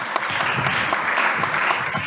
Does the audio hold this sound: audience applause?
yes